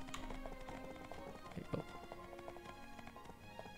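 Horse hooves clip-clop rapidly as a rider gallops in the video game My Time at Portia, quick even footfalls under game music, with a person briefly exclaiming.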